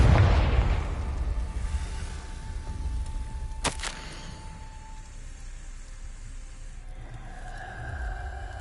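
A Confringo fire spell in Hogwarts Legacy bursts with a loud boom at the start, then rumbles and crackles away, with a sharp crack midway and quieter hiss and debris sounds trailing off.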